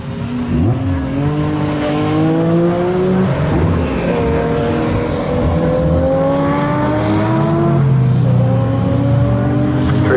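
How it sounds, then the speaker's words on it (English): A BMW race car on a circuit during a qualifying session roars past with rising and falling engine pitch and gear changes, loud and close, while a commentator talks over it. "Through goes the number 73 BMW"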